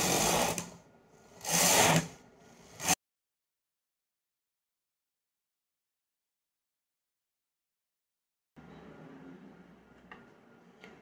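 A knitting machine carriage set to tension 4 knits a 30-stitch woollen border, with a few quick mechanical back-and-forth passes that whir and clatter, then a long silence before a low, steady hum returns.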